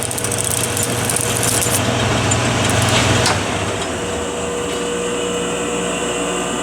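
A lathe spins a roll of tape while an x-acto knife cuts into it, producing a steady whirring motor hum with a rougher scraping texture in the first half that eases off.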